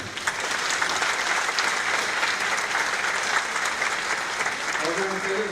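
Enthusiastic audience applause fills a hall at the opening ceremony of an international Muslim film festival in Kazan, a loud sustained burst of clapping with a faint tonal sound creeping in near the end.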